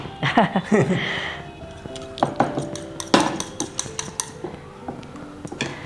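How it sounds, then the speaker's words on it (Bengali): Eggs beaten in a bowl give quick, irregular clinks and taps of utensil against the bowl close by, with people talking in the kitchen alongside. "আমি ডিমটা ফেটাচ্ছি"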